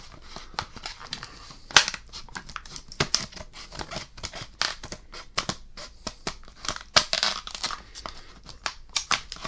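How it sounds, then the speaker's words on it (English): Rapid snipping and crinkling as scissors cut open plastic toy packaging, a dense run of sharp cuts and crackles at close range, with no voices. "This time I'll try not to break my scissors. So let's just cut one side."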